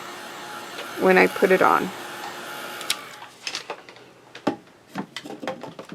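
A heat tool drying ink on a card panel gives a steady, rushing blow of air under a short stretch of talk, with scattered small clicks and taps of handling nearby.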